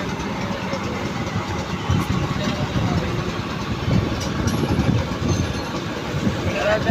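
Engines of four river launch ferries gathered at a ghat in Barisal, a steady low diesel rumble with broad water and crowd noise. The drone is continuous and fairly loud throughout.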